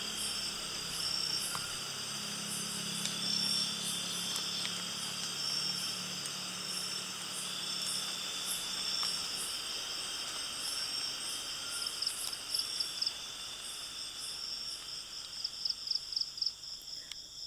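Steady high-pitched chirping and trilling of night insects and tree frogs in Khao Sok, Thailand, continuous and dense, with a faint low hum early on and no voices.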